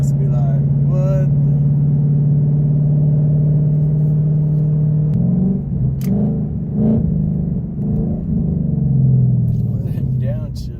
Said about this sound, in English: Them downshifts, boy. They will let everybody around you know you mean business.